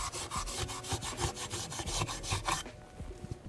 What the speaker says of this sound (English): this Scotch-Brite, I'll give it just a little bit of an etch